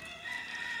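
Chickens in a barn give a brief close crow-like call with clucking, a short sustained bird cry over quiet background.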